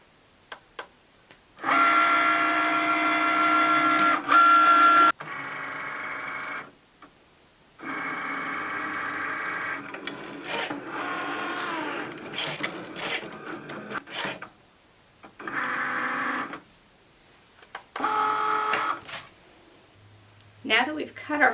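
A Cricut Maker cuts fabric held on a fabric grip mat, giving steady mechanical whirring and ticking bursts that start and stop with brief pauses, close and moderately loud.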